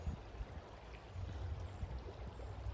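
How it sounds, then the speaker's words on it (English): A river or creek flows outdoors with a steady, soft rushing and gurgling, continuous and unbroken, with no voices. "I love the sound of a flowing river, flowing creek"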